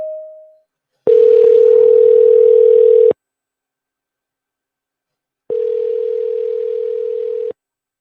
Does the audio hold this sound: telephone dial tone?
yes